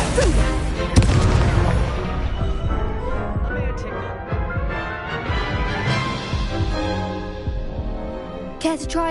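Spells cast in combat in Hogwarts Legacy bring loud, dense booms and bursts of magic that keep coming one after another, mixed with game music and voiced incantations across the whole stretch.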